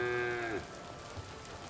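A single loud moo from cattle in the farming game Foundation, opening with a drawn-out bellow that fades after half a second into soft rain-like background patter.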